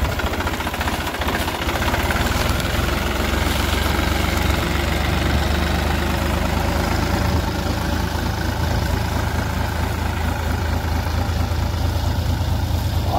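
A tractor engine idles steadily at a sugarcane field with a low, knocking diesel chug, continuous and close, with no voices.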